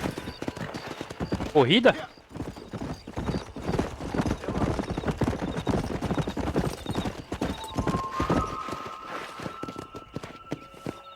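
A horse galloping in the Western video game Red Dead Redemption: a whinny early on, then a quick, continuous clip-clop of hooves under spoken dialogue and background music.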